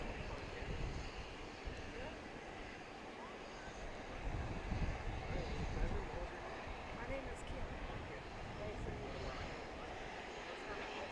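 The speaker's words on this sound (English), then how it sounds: "So here's our first departure of the evening. As you can see," A Delta airliner departs DFW Airport at night, heard as a steady, distant jet roar with a broad rumble that swells slightly midway. Faint chatter and open-air ambience sit over it.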